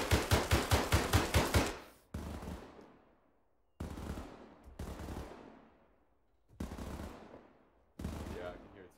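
ArmA 3 gunfire from a sniper in a window during a D-Day+1 battle: a rapid burst of about eight shots, then four loud single cracks, each trailing off in a long echoing decay across open terrain.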